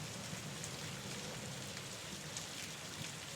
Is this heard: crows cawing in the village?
no